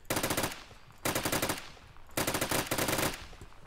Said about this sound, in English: oh, that's an MG42.